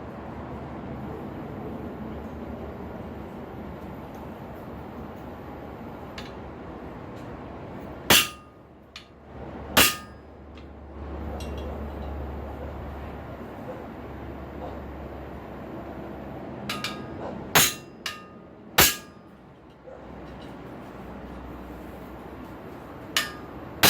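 Hammer blows on a sacrificial cutting plate over an anvil while making a through cut in forged steel. A few sharp, loud ringing strikes come in pairs and small clusters over a low background hum.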